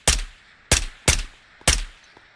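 An AR rifle in the video game Ghosts of Tabor fires on full auto at a slow cyclic rate, giving four sharp, loud, close shots in a fairly even rhythm with short decays and no talking.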